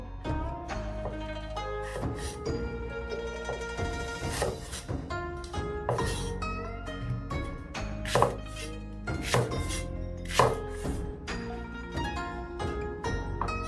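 Scallion and ginger are chopped on a board in a home kitchen while braised pork is prepared, with scattered sharp knife strikes over steady background music.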